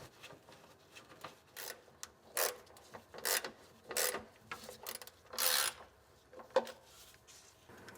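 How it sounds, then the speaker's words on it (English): A hand ratchet tightens the oil pan bolts on a 1980-1996 Ford Bronco engine. It gives a series of close, uneven clicking and rasping bursts with brief pauses between strokes, and no voices. "Now we can install and torque down the oil pan bolts."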